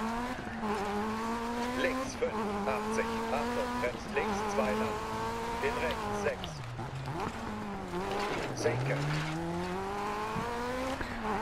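Rally car in the DiRT 4 video game on a rally stage in Australia, its engine droning and rising in pitch through repeated gear changes and revs, steady and close, with someone talking over it throughout.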